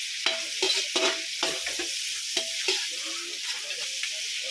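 Garlic and onion sauté in a pan for beef caldereta, a close sizzling hiss punctuated by repeated rhythmic scrapes and clanks of a spatula stirring.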